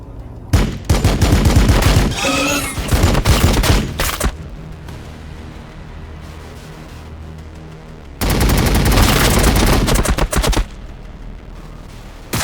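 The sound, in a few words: gunfire in the video game Warhammer 40,000: Battlesector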